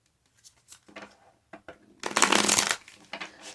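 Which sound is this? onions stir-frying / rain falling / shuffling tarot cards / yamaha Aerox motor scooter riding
shuffling tarot cards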